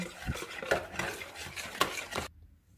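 A spoon stirs a chargha marinade of egg, yogurt, lemon juice, vinegar and ginger-garlic paste in a bowl, giving close, repeated scraping and clinking strokes for about two seconds before falling quiet.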